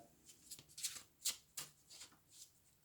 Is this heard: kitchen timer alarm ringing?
no